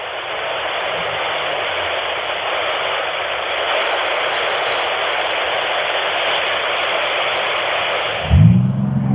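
SO-50 FM amateur satellite downlink received on a radio, a steady loud hiss of static throughout, ending in a brief low thump as the receiver is handled.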